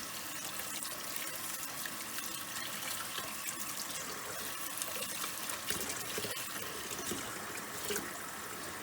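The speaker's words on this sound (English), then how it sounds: "we're gonna turn water on to as cold as you possibly can, and we're gonna start rinsing our butter" Cold water runs steadily from a kitchen tap while freshly made butter is rinsed and worked by hand, a continuous soft splashing hiss that stays even and fairly quiet throughout, with no talking.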